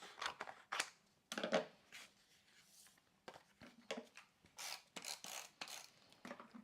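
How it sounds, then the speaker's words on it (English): Scissors cut paper tags into smaller pieces for a scrapbooking page, making quiet, close snips and rustles in an irregular series with soft paper handling between cuts. "I'm going to cut them to make them smaller."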